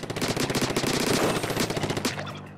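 Rapid, continuous gunfire from the Heavy Splatling Deco in the Splatoon video game, a loud, even rattle of shots for a couple of seconds that then stops.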